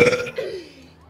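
A long, loud belch rolls out from someone imitating a yak, starting forceful and trailing off into a lower, fading croak.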